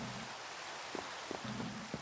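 Rain in Minecraft, a soft continuous patter of drops at low level, with a few faint soft knocks over it and no talk.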